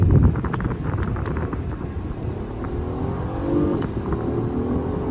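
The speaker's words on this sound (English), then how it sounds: "Nice sounding engine, great pickup." A 2025 Acura MDX Type-S engine accelerates with a steady, loud growl and rising pitch, heard from inside the cabin with wind and road noise throughout.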